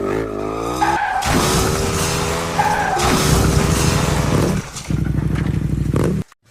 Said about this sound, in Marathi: आज जोरात गाडी पळव, पोरी पुढे हिरो वाटलं पाहिजे आपण.